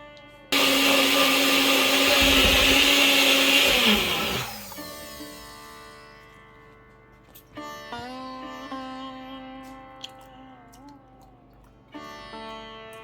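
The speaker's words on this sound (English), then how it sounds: "So I'm going to put a little tiny bit in there and blitz it up." A kitchen blender blitzing a thick mixture roars loudly and steadily for about four seconds, then winds down. Fainter, intermittent motor whirring and a few clicks follow as it pulses again.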